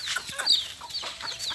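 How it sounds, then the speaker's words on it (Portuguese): Chickens clucking on a small farm while feeding, with a mix of close, fairly loud clucks and short bird calls overlapping in quick succession, no talking. "as galinhas aqui"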